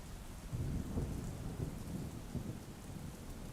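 Heavy rain roars steadily while low rumbles of thunder roll underneath, loud and close, with no voices.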